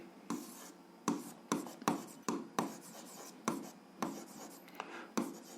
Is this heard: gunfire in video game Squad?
no